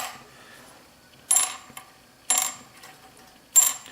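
A stock Epiphone plastic guitar nut drops onto a hard surface three times, each a sharp, bright clack with a short rattle, spaced about a second apart against a quiet background.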